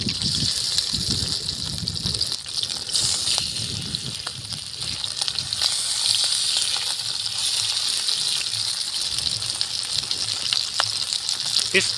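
Fish pieces coated in masala fry in oil on a flat tava, giving a steady loud sizzle throughout, with faint background voices and occasional clicks.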